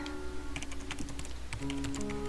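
Computer keyboard typing as a sound effect in a Korean audio drama: a quick, irregular run of close, crisp key clicks with no voices.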